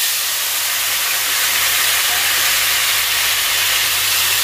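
Taro and potato pieces, rubbed with turmeric and salt, frying in hot oil with nigella seeds, a loud, steady, close hiss of sizzling that keeps on without a break.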